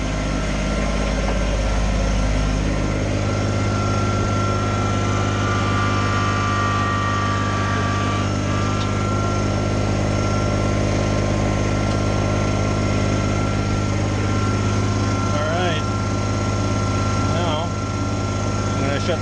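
A Kubota BX25 compact tractor with loader and backhoe runs steadily as it pulls ahead, a loud, constant low diesel drone and hum close by throughout, with faint voices briefly heard toward the end.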